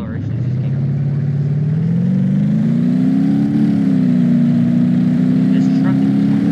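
A truck engine in BeamNG.drive drones loudly and continuously, its pitch climbing steadily as it accelerates and then holding at a high, even rumble.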